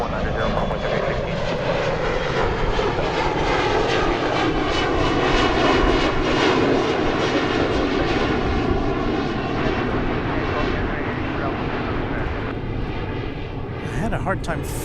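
An airliner on a go-around at DFW Airport roars overhead with a loud, sustained jet rumble that swells and slowly shifts in pitch as it passes, then fades slightly toward the end.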